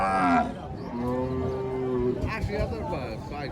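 A cow moos loudly at a busy Bangladeshi cattle market where cattle are sold for meat, with a long drawn-out call near the start and chatter from buyers and sellers around it.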